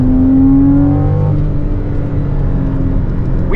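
A base 2014 Porsche Cayman with PDK gearbox accelerates hard on a racetrack, its engine note rising steadily, dipping at a shift, then climbing again, loud and close from inside the car.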